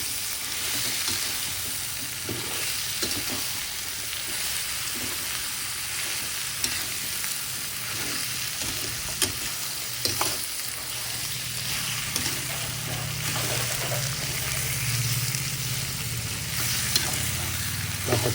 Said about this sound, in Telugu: ఇందులోకి మనం ముందుగా శుభ్రంగా నీచువాసన పోయేందుకు కడిగి పెట్టుకున్న నాటుకోడి తలకాయ కాళ్ళని కలుపుకోవాలి. వీటన్నిటిని బాగా కలుపుకోవాలి.